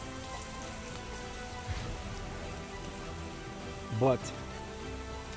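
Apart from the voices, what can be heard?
rain in a forest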